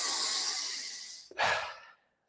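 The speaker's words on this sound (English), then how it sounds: "Five more breaths." A long, deep exhale during a recovery-focused breathwork exercise, followed by a sharp, forceful intake of breath through the nose that fades out, close and clear with no talking.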